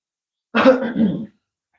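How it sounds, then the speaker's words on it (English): A single short, rough cough or throat clear, close and fairly loud, in otherwise quiet surroundings. "Excuse me, I need to cough."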